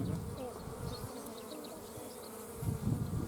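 Honeybees buzz steadily in an open hive during an inspection, a close, continuous drone with a few louder swells near the end and no speech.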